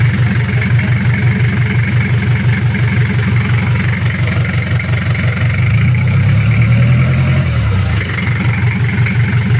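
Mitsubishi Strada 4M40 diesel engine idling after an overhaul, a loud, close, steady rhythmic diesel clatter that runs the whole time with a slight rise in pitch near the end.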